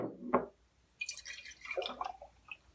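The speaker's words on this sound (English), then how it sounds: "halfway, you're gonna add water to your jar." Water poured into a jar for a children's potion activity, with a short splashy drip near the start followed by a stretch of bright, trickling, glassy pouring sounds that fade out near the end.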